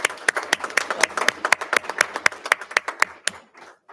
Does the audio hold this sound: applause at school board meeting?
yes